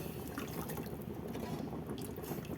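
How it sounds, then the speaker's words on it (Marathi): A glass of water pours into patwadi rassa curry in a pan, a steady close splashing and gurgling of liquid running throughout with faint clinking, no voices. "मी 1 ग्लास पाणी टाकलं आहे।"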